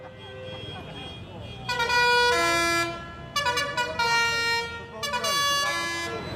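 Several loud tractor horns blare repeatedly in overlapping bursts, long blasts and short toots, over the low rumble of engines at a farmers' protest on Oxford's High Street.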